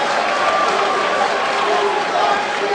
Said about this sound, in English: Man, this crowd is so into it.